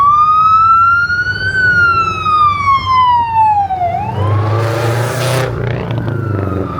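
A loud ambulance siren wails close by at the Import Expo 2024 car show, its pitch rising and falling in long sweeps before shifting into a different tone, with traffic rumbling underneath.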